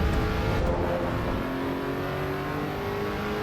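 A road car engine in the racing game Assetto Corsa EVO revs and accelerates, a moderate steady drone with rising tones, not especially loud.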